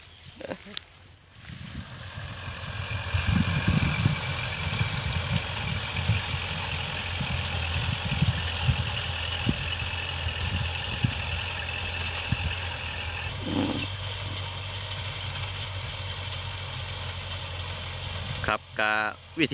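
A steady tractor engine chugs and idles throughout in a rice field, a low rumbling drone with a few brief knocks, fairly close and continuous.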